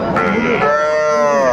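A bull calf at the Raniganj cattle market in Dinajpur gives one loud, close moo that starts rough and settles into a steady, drawn-out tone.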